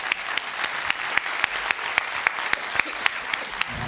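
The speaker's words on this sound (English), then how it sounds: "a round of applause for our panel" A room full of people at a law conference panel applauds steadily, with some distinct claps popping out at a regular pace above the general patter.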